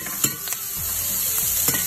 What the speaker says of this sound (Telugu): మనం కొంచెం ఆనియన్స్ వేసుకుందాం